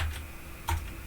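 A few quick keystrokes tapped on a computer keyboard, faint and close, with a louder cluster of clicks near the end and no talking.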